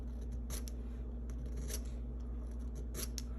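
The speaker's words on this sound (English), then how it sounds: "what you use to get that is a sharp knife, and you peel off some of the wood," A sharp knife shaves wood off a pencil in a few quick, crisp scraping strokes, close and faint over a low steady background hum, with no talk.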